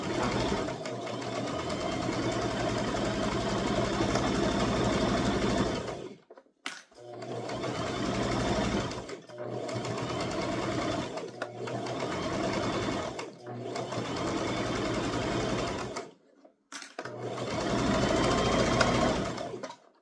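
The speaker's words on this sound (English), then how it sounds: "I'm gonna start to sew." A sewing machine stitches the flap of a toddler's crossbody purse in four long, steady runs of rapid mechanical whirring, each broken by brief silent pauses, close and clear with no voices.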